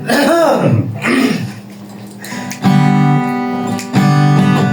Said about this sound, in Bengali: গান গাওয়ার আগে সকলে গলা পরিষ্কার করে নেন